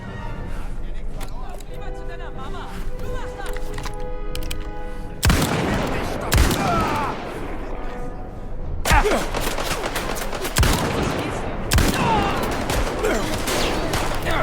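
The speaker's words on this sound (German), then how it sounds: "Die schießen auf mich." Gunfire in the Indiana Jones and the Great Circle game, several sharp bursts of shots and bangs arriving in clusters over game music and ambience, with someone talking in between.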